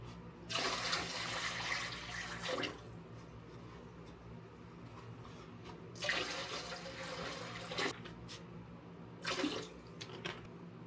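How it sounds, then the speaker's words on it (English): Water is poured into a canning pot of room-temperature jars with chicken stock and a splash of vinegar, in three loud rushing bursts separated by quieter gaps, close and with no speech. "add water to this"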